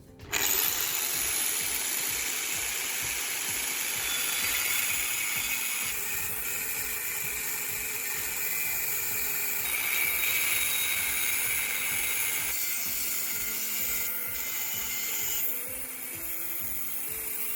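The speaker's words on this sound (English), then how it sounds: "Use your angle grinder to cut it into an L-shaped piece." An angle grinder whines steadily as it cuts through metal, a loud, continuous high-pitched grinding that barely varies for the whole stretch.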